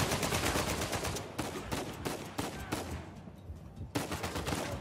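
Rapid gunfire in the video game Uncharted 4: dense, loud bursts of shots fired in quick succession for several seconds, with a short lull before another volley. No one speaks.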